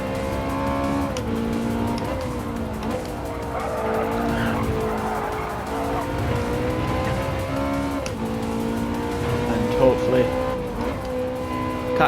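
A race car lapping in Gran Turismo 7, a sustained engine drone rising and falling through gear shifts with intermittent tire squeal, heard under steady talk from a commentator.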